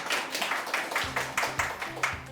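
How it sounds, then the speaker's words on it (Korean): An audience applauds an award recipient at a university start-up program ceremony, with a run of separate claps at a quick, uneven rhythm that stays moderately loud and close, with no voices. "박수 부탁드립니다"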